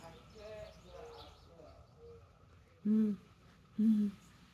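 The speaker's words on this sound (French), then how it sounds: "Le pigeon roucoule." A pigeon gives two short, distinct cooing calls about a second apart, clear and close, following faint background voices and low ambient noise.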